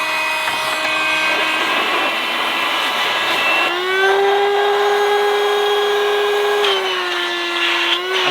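A Greenworks 24V portable air compressor runs in inflator mode with a steady, loud whine that shifts to a higher pitch partway through and holds to the end, with no talking.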